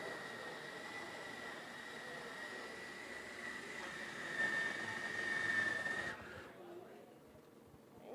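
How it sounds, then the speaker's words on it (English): A food processor grinding peanuts into peanut butter, a steady whirring motor hum with a high whine that sinks slightly in pitch as the mixture thickens, then cuts off near the end. "As it gets thicker, you can hear it slowing down a bit to turn into peanut butter."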